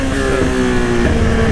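A motorcycle engine revs loudly and steadily while the rider pops a wheelie on a street, the drone sustained and close throughout with no talking.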